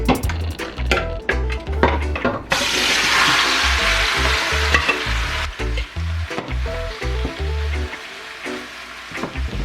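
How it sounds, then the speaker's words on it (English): Chicken sizzles loudly as it hits hot oil in a pot for Jamaican curry chicken, one long hiss of frying broken by clanks of a spoon stirring against the metal. "we're gonna put the chicken in the pot now"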